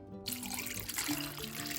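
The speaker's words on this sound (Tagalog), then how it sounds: "lagyan natin ng isang tasang Malaking tasa po ng tubig" Water from a large cup poured into a cooking pot of tomatoes while preparing a fish dish, a steady splashing trickle that runs on without pause, close and fairly loud.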